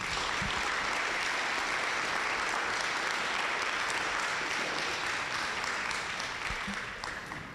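A live audience claps steadily and loudly throughout, a dense wash of applause at a community healing gathering that fades slightly toward the end, with no voices over it.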